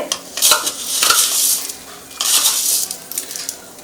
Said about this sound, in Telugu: ఈ ఆయిల్ తోటే మొత్తం పచ్చడంతా కూడా కలిపేసుకుందాము